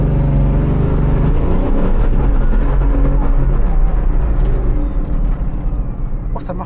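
A Bugatti Veyron Vitesse accelerates hard, its deep engine roar building and holding at full intensity before easing off slightly, with a voice speaking over it.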